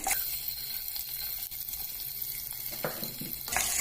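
Chopped onions fry in a pan over a medium flame with bay leaf, green chilli and cumin, a soft continuous sizzle with a few light stirring scrapes near the end, close but fairly quiet and without talk.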